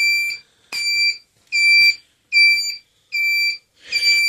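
A loud, piercing electronic warning beeper on a 1 kW electric bike sounds in a steady repeating pattern, six shrill pulses with short gaps between them.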